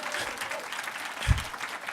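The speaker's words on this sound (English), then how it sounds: "You could clap for that." A small audience claps briefly and lightly, a soft scattered patter with one low thump partway through.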